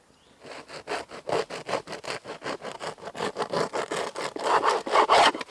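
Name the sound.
knife cutting through crusty Guinness bread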